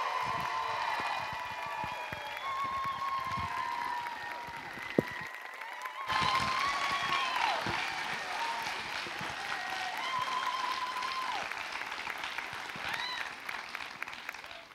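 An audience at a political speaking event applauds steadily for an arriving speaker, a dense, sustained clapping with some cheering, briefly dipping midway and continuing at an even, moderate level.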